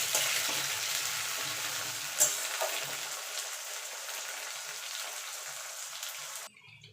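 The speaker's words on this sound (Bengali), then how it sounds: "আলুটা দিয়ে একটু ভাজা ভাজা করে নেব।" Cut potatoes fry in oil with onions in a pan, giving a steady sizzle with a few stirring clinks. The sizzle fades and cuts off just before the end.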